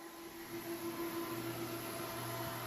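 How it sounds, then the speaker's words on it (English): A cooling fan on the inverter drawing power from a VW e-Golf lithium-ion battery under load, a steady whirring hum with a constant tone, even and continuous throughout with no talk. "Do you hear the inverter fan running?"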